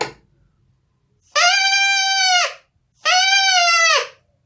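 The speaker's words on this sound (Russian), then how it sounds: "И практически наш духовой инструмент уже готов." A homemade tube wind instrument, a cut and flattened straw, blown in two sustained reedy honks of about a second each, with a buzzy, harmonic-rich tone like a bleat, close and loud, separated by a short pause.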